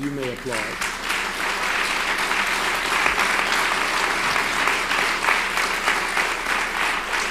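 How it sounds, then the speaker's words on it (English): Dense, sustained applause fills a church hall at an evening community session hosted with the People's Organization for Progress, steady and loud throughout, with some voices mixed in near the start. "You may applaud."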